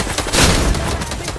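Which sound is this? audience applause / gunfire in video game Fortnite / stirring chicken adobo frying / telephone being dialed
gunfire in video game Fortnite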